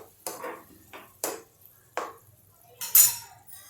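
Zucchini sabzi being stirred in a pan, a spoon knocking and scraping against the metal in several separate bursts roughly a second apart, close and fairly quiet with no talk.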